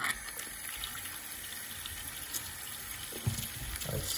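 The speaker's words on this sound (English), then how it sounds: "Yeah, now I'm gonna do a powerful flush." Powerful flush of a mini Kohler Dexter urinal model, slightly leaky: continuous hissing, trickling water runs steadily through the whole stretch, moderately loud and close, with no voices.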